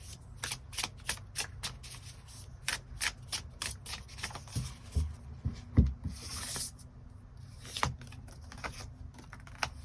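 Tarot cards shuffled by hand in a steady run of quick, crisp riffles and taps, close and fairly quiet, with a louder flurry of card snaps in the middle and no talking.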